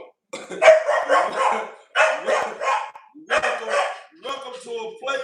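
American bully dogs bark in several loud, close bursts separated by short pauses, mixed with a voice talking over them.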